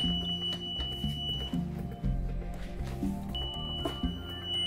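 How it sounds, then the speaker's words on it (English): Emergency exit window buzzer on a school bus during a pre-trip inspection, a faint steady electronic tone sounding twice amid clunks and handling noise. "making sure that our emergency exit windows open freely, and we hear that buzzer"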